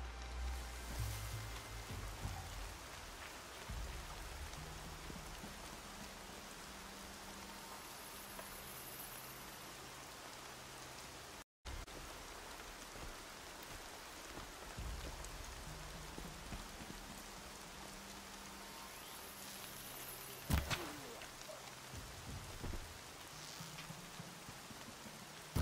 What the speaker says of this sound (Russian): Дождь — это неплохо.